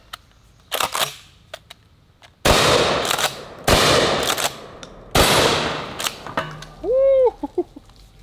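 A shotgun loaded with number 4 buckshot fires three loud, sharp blasts outdoors, each shot cracking with a short echoing tail, with lighter clicks between the shots and a brief voice at the end.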